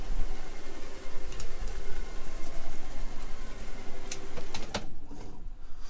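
A CNC router spinning a 1/8 O flute bit through PVC makes a dense, steady whirring hiss up close, with scattered ticks, then drops away near the end as the cut stops.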